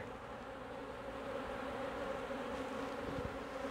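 Honey bees buzzing steadily from an opened beehive during a hive inspection, a dense, continuous drone that stays close and fairly loud throughout.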